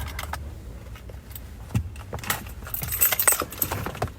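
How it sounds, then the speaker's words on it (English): Keys jangle in a car, metallic clinks and rattles coming in a few quick bursts, close and fairly quiet, with a brief thump midway and no talk over them. "I thought I lost my keys."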